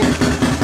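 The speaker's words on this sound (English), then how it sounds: "obviously it runs fine. There's no smoke." A four-wheeler ATV engine idles close by in a brief snatch, giving a steady low thrum with an even, quick pulsing beat.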